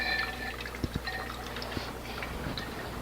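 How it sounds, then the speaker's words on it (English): Hot water poured from a kettle over a dry paper coffee filter in a ceramic cone, giving a steady close splashing pour with a few drips and light clinks. "pour it on our dry paper filter, making sure that all of it is wetted"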